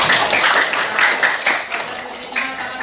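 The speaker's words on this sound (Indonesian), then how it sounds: "Oke, tepuk tangan buat kelompok 1." Students applauding a presenting group in a classroom, a short burst of scattered, uneven clapping from a small group nearby that softens toward the end.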